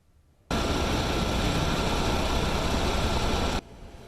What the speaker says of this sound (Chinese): 乌鹰直升机载水里拍火